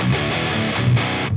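Metal electric guitar played through fuzz blended with distortion, a dense, saturated and heavily broken-up tone that sustains loudly and continuously with no gaps.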